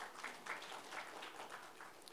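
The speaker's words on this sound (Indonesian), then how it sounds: "Anda boleh beri tepuk tangan untuk kebenaran ini." A church congregation applauds during a Sunday sermon, a soft, steady patter of many clapping hands sustained at a distance for a couple of seconds.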